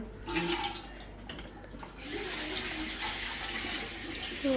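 Water runs steadily from a household tap, a continuous close splashing hiss that lasts a few seconds with no speech.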